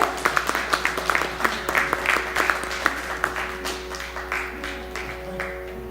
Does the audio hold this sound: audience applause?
yes